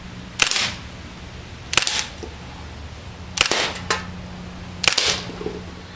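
Beretta PX4 Storm pellet pistol firing four spaced shots with blowback action, each a sharp crack followed by a brief mechanical snap, with a steady low hum underneath.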